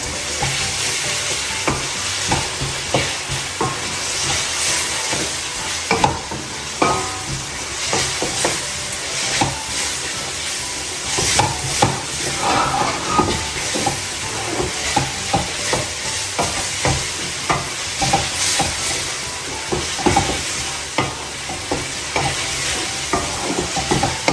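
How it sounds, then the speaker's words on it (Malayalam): Green chili with ginger and garlic paste sautéing in a pan for pork roast, a steady close sizzle broken by frequent scraping stirs and clatters at an irregular rhythm, with no talking. "പച്ചമുളക്, ഇഞ്ചി, വെളുത്തുള്ളി പേസ്റ്റ് അതും കൂടി ഇട്ട് നന്നായിട്ട് വഴറ്റാം"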